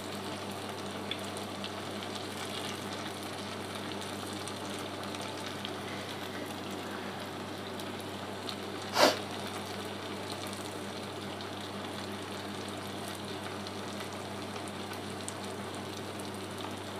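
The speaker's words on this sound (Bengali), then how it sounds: "এভাবে আমি 1টা 1টা করে ভেজে তুলে নেব" Banana malpua pieces frying in hot oil, a steady soft sizzle and crackle running throughout with one brief sharp spike near the middle; no voices.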